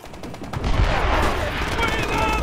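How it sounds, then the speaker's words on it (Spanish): Enemy artillery and gunfire in Call of Duty: World at War on PlayStation 3, heard as dense, loud battle noise with rumbling blasts and rapid shots that keep going throughout. "¡Artillería enemiga!"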